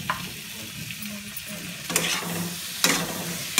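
Masala frying in a pan with salt for a poi-leaf vegetable dish, a soft steady sizzle underneath with a couple of sharp scraping stirs and clatters, close by, no voices.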